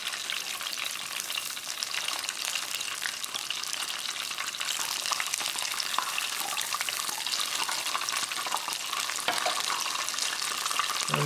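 Chicken strips deep frying in hot oil, a steady dense crackle and hiss that holds evenly throughout with no voices.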